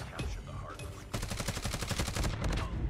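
Steady automatic gunfire in Call of Duty Mobile, CR56 Amax rifle: a fast, even stream of loud shots over continuous game noise, with a faint voice in the background.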